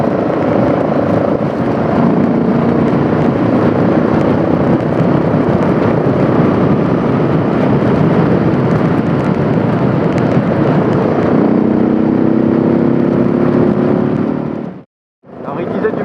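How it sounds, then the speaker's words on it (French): A Yamaha XTX 660 single-cylinder motorcycle accelerates with a loud, steady engine roar and a wind-buffeted drone. A rising tone comes near the end, then a brief cutout, and a voice is faintly present. "quand j'ouvre la poignée de gaz et que j'entends un poum poum poum poum poum bien sympathique"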